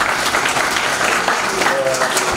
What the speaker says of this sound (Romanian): Haideți să-și aplaudăm!